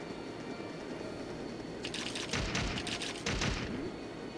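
Gunfire in the video game Trails of Cold Steel, a rapid burst of several sharp shots starting after a quiet stretch over low background hum.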